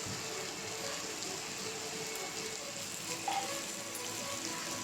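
Curry with garam masala powder and ghee sizzling in a pan as it is stirred, a steady soft frying hiss with faint scraping of the spoon and a small knock near the end, with no talking.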